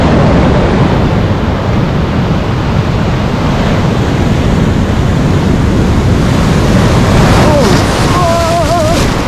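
Ocean surf breaking on a beach during a perch fishing outing, a loud continuous roar of wash and wind close to the microphone, with brief voices near the end.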